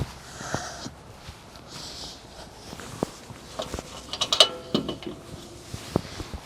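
Latches on a Rolling Unit L expansion trailer are locked with faint, close mechanical creaks, clicks and scattered metallic knocks, growing sharper toward the end over a quiet background.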